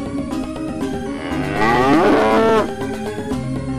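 A cow lets out one loud, close, drawn-out moo that rises and falls over a steady background, with no talking.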